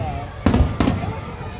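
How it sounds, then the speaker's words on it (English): Two muffled booms of fireworks outside a summer festival in Philadelphia in quick succession, heard at a distance against a low background rumble. "The fireworks out here, bro."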